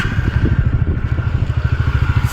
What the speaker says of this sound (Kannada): ಎಕ್ಸಾಸ್ಟ್ ಸೌಂಡ್ ನೋಡೋ ಬನ್ನಿ